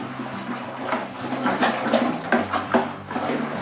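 Wine kit must being stirred in a fermenting bucket, liquid sloshing and swirling in uneven surges with a low background hum, close.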